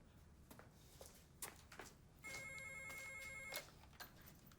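A telephone rings with a bright, warbling electronic tone for a little over a second, faint and slightly distant, amid quiet room noise and soft knocks.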